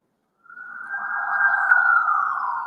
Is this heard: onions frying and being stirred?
no